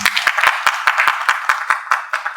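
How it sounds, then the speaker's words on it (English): Audience applause at a heritage talk, close and loud, with distinct sharp claps rising over a steady bed of clapping. "he deserves a great round of applause"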